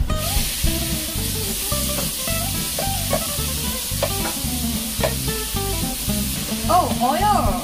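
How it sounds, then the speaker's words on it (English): Steady loud sizzling of meat for bulgogi frying in a hot pan, with scraping and stirring noises and a voice speaking briefly over it. "first you fry the meat."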